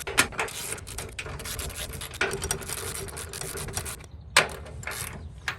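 Suspension bolts on a Toyota Sequoia's lower control arm are tightened snug with a ratchet wrench, giving quick repeated clicking bursts separated by short pauses, close and moderately loud, with no talking.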